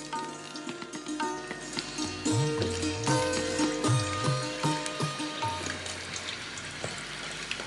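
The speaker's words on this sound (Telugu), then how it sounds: "ఇప్పుడు వాటర్లో పెట్టుకుంటాం ఎందుకంటే కలర్ చేంజ్ అవ్వకుండా." Peeled potatoes go into a bowl of water in a home kitchen, giving soft splashing and sloshing water sounds over a steady tonal background, with no talking.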